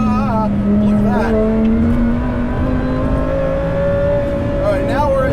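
A supercharged 870 hp Lamborghini Huracan Performante accelerates hard on a race track, its loud engine tone rising steadily in pitch with a supercharger whine layered on top, heard from inside the car over a constant roar.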